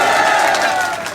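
A large crowd at a political rally roars and cheers in a brief, loud, dense burst.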